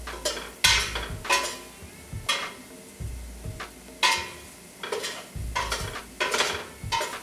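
Sausage, onions and peppers stirred gently in a pan, with a spoon scraping in repeated short strokes over a soft sizzle, each pass a brief rustling scrape with pauses between, close and moderately loud.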